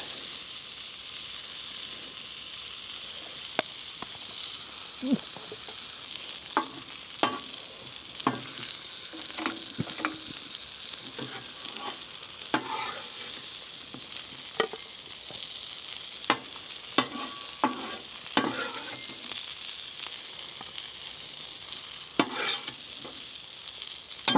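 Onions and potatoes sizzle in a pan on a camping stove outdoors in winter, a constant bright hiss with many sharp stirring clicks and scrapes spread through the long stretch, no voices.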